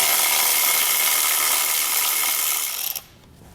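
Ratchet wrench working a 10mm bolt on a 2019 Chevrolet Equinox, a steady fast clicking buzz for about three seconds that stops abruptly.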